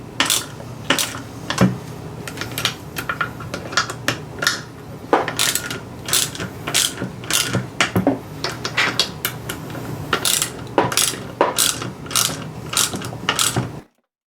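Nuts secured with Loctite and Nylock are tightened with a tool, giving irregular metallic clicks, ratcheting and clinks close by, with no talking.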